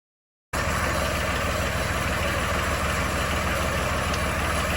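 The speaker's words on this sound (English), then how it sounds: "The 750 John Deere with a snowblower on it is ready to go." A John Deere 750 tractor fitted with a snowblower runs at a steady idle after a short silent start, a close, even low rumble that continues unchanged to the end.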